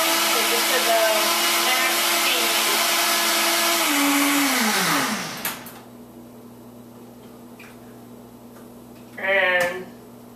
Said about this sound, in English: I blend this in my handy dandy vitamin with the ice